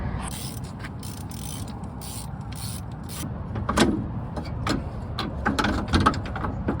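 A spring compressor is cranked on the coil spring of an 84-01 Jeep Cherokee XJ in an auto parts store parking lot, producing irregular ratcheting clicks and metallic clanks over a low background rumble.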